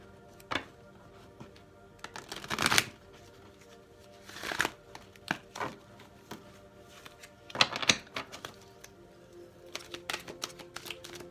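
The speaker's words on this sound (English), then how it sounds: "These are really thick cards. They kind of shuffle a little bit clumsy." Thick tarot cards being shuffled up close in irregular, slightly clumsy bursts of riffling and clacking, with pauses between, and no talking.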